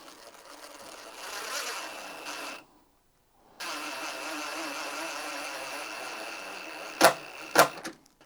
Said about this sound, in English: that is a 2-inch deck screw. With DeWALT Speed 1, you can see that obviously it is meant for small fasteners with precision control